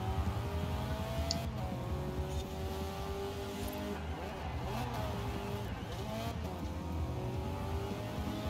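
A race car in Forza Horizon 4 drives through a seasonal championship event, its engine droning steadily with shifting revs and tire noise, fairly quiet, with a voice faintly talking over it.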